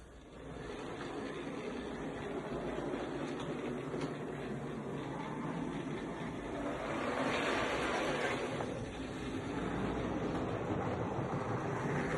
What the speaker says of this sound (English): the train's going to start the station and it's going to do a full loop